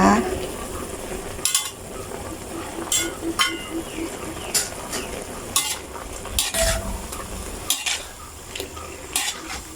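Eggplant and textured soy protein stir-fried in a pan, a continuous close sizzle broken by repeated scraping and clinking of a utensil against the metal at an uneven rhythm, with a voice faintly present at moments.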